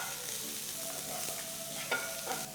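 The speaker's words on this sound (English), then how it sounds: "Fry the onions till they're a nice golden brown color." Finely chopped onions frying in mustard oil in a pan, a close, steady sizzle with soft scraping stirs and a couple of brief clinks, no talking.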